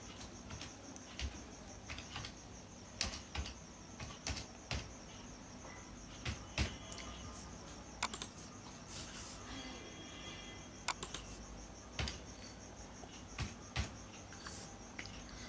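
Computer keyboard typing while entering text into a spreadsheet, rendered as soft irregular clicks and taps in short bursts, fairly close and quiet over a faint steady background hum, with no talking.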